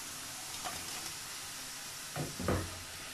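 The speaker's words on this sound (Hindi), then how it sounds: "अब इनको दोबारा से फ्राई कर लेते हैं" Half-cooked French fries go back into hot oil for a second fry and sizzle in a steady, soft hiss. Two louder bursts of bubbling and splashing come near the end as more fries are dropped in, and no one talks.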